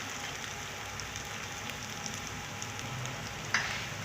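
Ginger-garlic paste fries in a pan with a steady, soft sizzle and crackle, and a single sharp clink of a spoon near the end.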